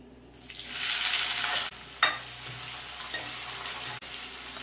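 Three medium onions dropped into a hot pan for masala dosa filling set off a loud, close burst of sizzling that lasts over a second. A sharp utensil clink follows, then a quieter steady frying hiss.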